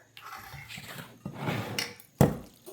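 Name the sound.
stuffed cabbage roll mixture spooned into casserole pan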